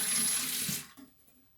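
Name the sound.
rinsing a paint brush under running water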